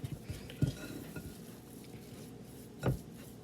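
Sticky dough for a baked treat is worked in a bowl, a few soft wet slaps and thuds with spoon-on-bowl clatter, close and fairly quiet, with a pause before a final firmer knock.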